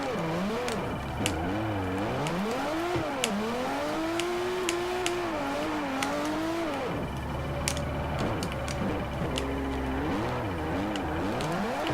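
A Nissan S15 drift car in the Forza racing game revs continuously, its engine note sweeping up and down through the gears and slipping at one point as it loses RPM, loud and steady without talk.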